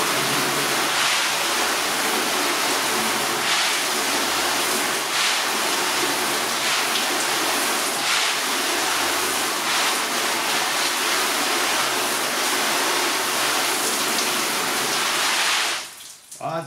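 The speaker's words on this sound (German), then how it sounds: "So, wir kommen dann mal mit dem Wasserschlauch." A garden hose sprays water onto a car during detailing, a loud steady hissing wash that runs unbroken and close for most of the stretch before cutting off near the end, with a voice speaking faintly beneath.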